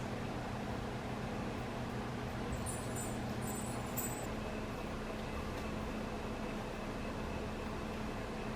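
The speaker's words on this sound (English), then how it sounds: "turn it on to a low speed and mix the dough for about 5 minutes" Stand mixer running on low speed, mixing sourdough dough for cinnamon buns: a quiet, steady motor hum that holds evenly from start to finish, with no voices.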